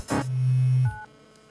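A mobile phone text message notification, a short electronic buzz and tone lasting under a second, close and fairly loud, followed by quiet.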